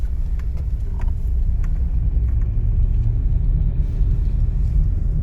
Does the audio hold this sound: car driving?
yes